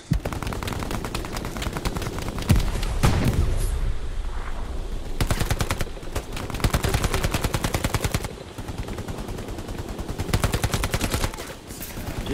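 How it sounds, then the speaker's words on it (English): Machine gun fire in the World War II shooter game Hell Let Loose, long rapid bursts of automatic shots with brief gaps, loud and close, layered with more distant gunfire. "what the hell was that? Machine gun?"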